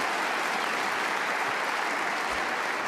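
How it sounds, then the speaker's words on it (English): Steady, full applause from a snooker crowd at the 2024 Northern Ireland Open final fills the hall after a pot, sustained clapping with no pauses. "Well, he got a good cheer for that, didn't he?"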